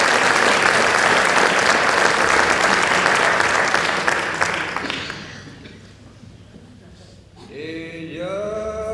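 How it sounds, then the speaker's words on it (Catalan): A theatre audience applauds a school drama scene performed by five actresses, dense loud clapping that fades out after about five seconds, followed by a voice speaking. "Un fort aplaudiment per això."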